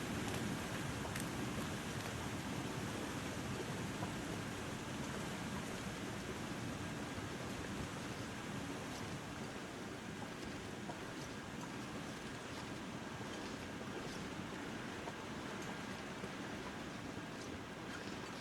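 Waterfall in the video game The Long Dark, heard as a steady, dense broadband rush of falling water that holds constant and fairly loud throughout, with no voices over it.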